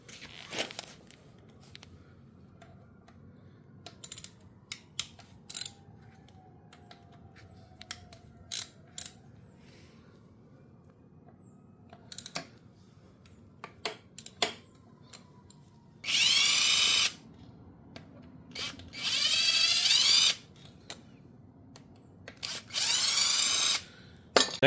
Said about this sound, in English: grab our T30 Torx, and we'll crack that one, and this upper bottom one off